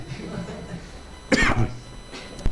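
A single burst of harsh coughing, close by, after a stretch of quiet room noise, with a faint second cough near the end.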